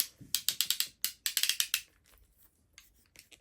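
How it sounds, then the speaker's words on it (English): Ratcheting crimping pliers clamp down on a pipe clamp during an RV water-line repair, producing two quick runs of sharp, close clicks with a short pause between them, then fainter scattered ticks as the jaws finish and release. "this is a crimping tool"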